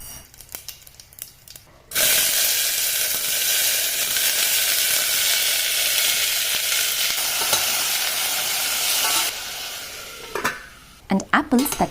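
Mustard seeds hit hot oil in a pot and burst into a loud, dense sizzle that holds for several seconds, with a few clinks of utensils before and after.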